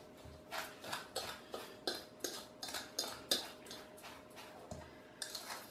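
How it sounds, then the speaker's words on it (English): Cheesecake crust being mixed in a bowl for a chocolate peppermint bark New York style cheesecake, heard as repeated clinks and scrapes of a utensil against the bowl in a steady stirring rhythm, close and fairly quiet, with no talking. "So just mix it up really well till it's all well and blended."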